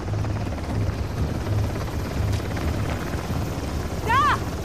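A helicopter in the video game Uncharted: The Lost Legacy thrums with a steady, loud rotor drone throughout, while someone speaks over it and a brief whistling tone rises near the end.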